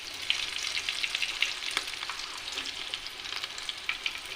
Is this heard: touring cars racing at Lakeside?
no